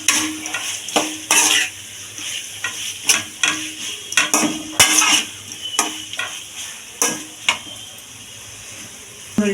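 Fried cauliflower being stirred and tossed in a pan for chilli gobi noodles, with repeated sharp scrapes and clanks of a utensil against the metal over a soft background sizzle.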